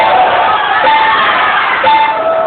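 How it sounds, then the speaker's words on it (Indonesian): Audience at a regional head candidates' debate in Rokan Hulu cheers and applauds as a dense, loud crowd roar, steady throughout with a brief swell near the end. "tepuk tangan yang meriah untuk"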